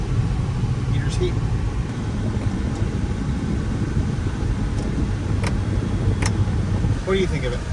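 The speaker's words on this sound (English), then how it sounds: "The car sounds pretty good." A car engine idles steadily as a low, even rumble close by, with a few faint higher clicks and chirps over it.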